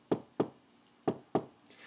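Four sharp knocks land on a door in two quick pairs, near and fairly loud, with quiet between them.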